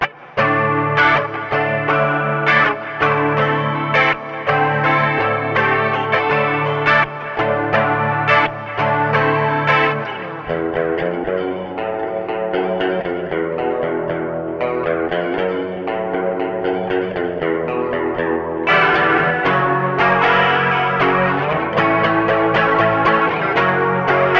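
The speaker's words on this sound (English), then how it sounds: "And a 70s chorus" An electric guitar with a 70s chorus from a Line 6 HX Effects plays a continuous chordal passage, shimmering and slightly detuned, loud and unaccompanied by talk.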